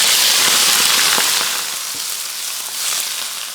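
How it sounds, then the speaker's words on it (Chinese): Pork intestines hit hot oil in a wok and set off a loud, dense sizzle with crackling spatters. The frying sound dominates at first, then settles slightly but stays steady throughout. "肥肠下锅。"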